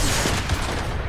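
Gunfire in a Fortnite custom game mode, a rapid burst of shots running together into a dense roar at close range for about a second.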